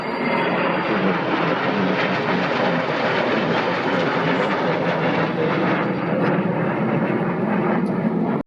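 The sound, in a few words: C-17 Globemaster military aircraft at airshow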